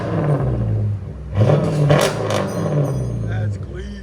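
A 2015 Jeep Grand Cherokee Summit 5.7L HEMI V8 with X-pipe and straight pipes revs up from idle in a couple of loud swells, with a rough rumbling exhaust and a voice speaking over it.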